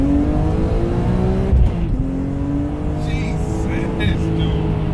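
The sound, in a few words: supercharged E85 BMW E46 M3 accelerating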